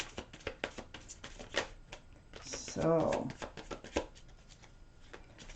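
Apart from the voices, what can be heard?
tarot cards being shuffled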